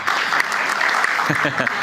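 Loud studio audience applause for visiting university students on an Indonesian television talk show, dense continuous clapping throughout.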